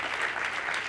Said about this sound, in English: we need to give him a proper round of applause.